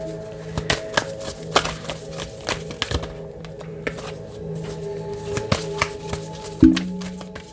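An oracle card deck, the Star Codes Astro Oracle, being shuffled by hand: quick irregular riffling taps and slaps up close, with a low steady hum underneath and no talking.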